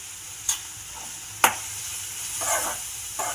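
Potato pakoda mixture frying in plenty of oil, a soft steady sizzle broken by a few sharp scrapes and stirring knocks of a spoon in the pan.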